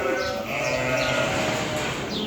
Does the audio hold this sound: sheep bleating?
yes